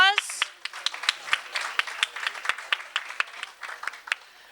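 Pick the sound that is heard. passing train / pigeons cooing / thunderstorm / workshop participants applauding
workshop participants applauding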